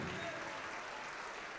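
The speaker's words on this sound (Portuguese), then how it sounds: "Vamos aplaudir mais ao nome de Jesus." Church congregation applauding, a continuous dense clatter of many hands clapping at close range throughout the short stretch.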